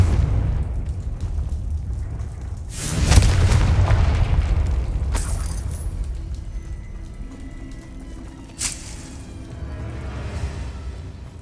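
A Confringo spell explosion in the Hogwarts Legacy video game lands as a loud, broad boom, followed by a couple of sharper bursts and a rumbling tail.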